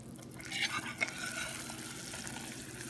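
Sugar syrup goes into roasting semolina for suji halwa, giving a soft, close liquid pour with a brief sizzle and splash over a low steady background, fairly quiet, with no talking.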